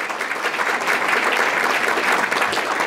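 Audience applause at a City Club event in Chicago for the CEO of the Chicago Public Schools, a dense, even burst of clapping from a room full of people.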